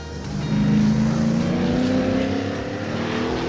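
Kyle Petty's yellow No. 42 historic stock car from Sabco Racing, big old American iron, drives past at a speed festival: a loud, close, steady engine roar whose pitch climbs gradually as it runs, with no pause.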